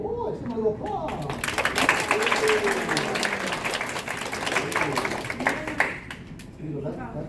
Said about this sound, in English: Give him a little applause.